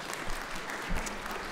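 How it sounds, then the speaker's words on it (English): Steady, full applause from a church congregation in a community church service, continuous and even throughout the short stretch, with no voices on top. "Church family, would you give another round of applause?"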